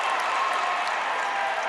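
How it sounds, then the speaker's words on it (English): Crowd at an Albertus Magnus men's college basketball championship game against Johnson & Wales roars and cheers steadily with applause, a dense, sustained wash of noise filling the arena without letup. "Crowd roaring here at Albertus Magnus"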